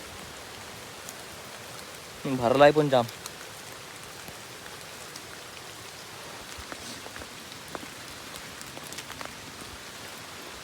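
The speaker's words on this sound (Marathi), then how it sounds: "जरा पाऊस जाम पडतोय" A constant hiss of rain falls all around, with a short burst of someone talking near the start.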